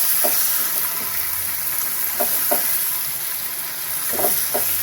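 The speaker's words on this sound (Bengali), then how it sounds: "কুমড়োটা হালকা ভাজা ভাজা হোক, লাল লাল" Pumpkin pieces fry in a pan with a steady, bright sizzling hiss, broken now and then by a few soft scrapes of stirring.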